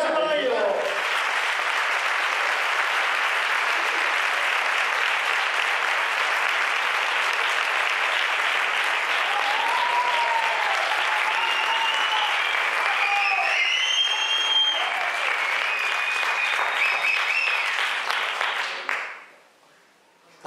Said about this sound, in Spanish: ¡Fuerte aplauso para ello!